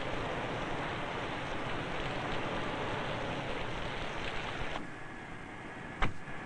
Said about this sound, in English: Test the fit of windows, doors, and deck lid in this simulated downpour.